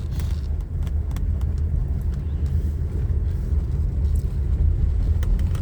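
A car driving on a road through a student neighborhood in Kalamazoo, with a steady low engine and road rumble heard from inside the car and faint clicks above it, without any talk.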